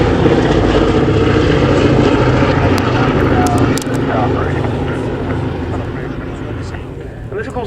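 A B-17 Flying Fortress makes a display pass at the Scampton Airshow, its piston engines a loud, steady droning roar that eases slightly as it moves away, with a commentator's voice over it.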